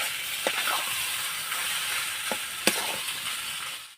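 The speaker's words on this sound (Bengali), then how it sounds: "ম্যাশ করা আলুটা আমি হলো গিয়ে 2-3 মিনিটের মতন একটু নেড়ে চেড়ে সুন্দর করে ভাজা ভাজা করে নেব।" Mashed potato frying in a pan for a stuffed pumpkin-leaf roll filling, with a steady close sizzling hiss broken by a few sharp scraping clicks of stirring, no talk.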